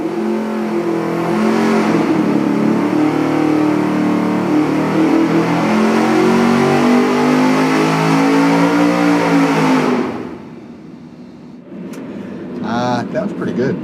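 A car engine revs hard through a Cherry Bomb Salute straight-through perforated-tube muffler, a loud sustained roar with rising pitch for about ten seconds, then drops to a quieter idle with a short blip at the end.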